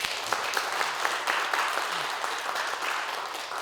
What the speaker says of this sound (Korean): 우리 목사님 위해서 한번 박수 쳐주십시다